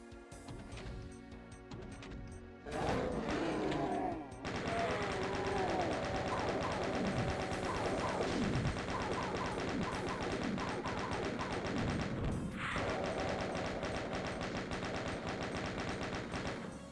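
Rapid, sustained chaingun fire from a chaingunner enemy in Doom, loud and continuous bursts of rattling shots that pause briefly and then resume, with no speech.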